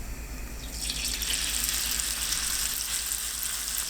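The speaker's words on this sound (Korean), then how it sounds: "팬에 식용유 넉넉하게 붓고 예열되면 감자 반죽 올려주세요." Potato batter sizzling in plenty of hot oil in a frying pan, a steady, loud hiss that swells and holds for several seconds, close and alone with no voices.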